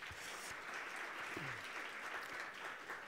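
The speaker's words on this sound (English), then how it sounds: "They do deserve another round of applause." Sustained applause from a conference audience after a panel discussion at a national green hydrogen event, a steady, even wash of clapping filling the room with a brief voice-like sound partway through.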